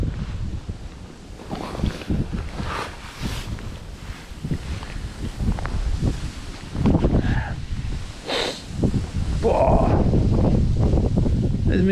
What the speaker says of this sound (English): There's me saying about the wind and then it comes back 10 times as bad.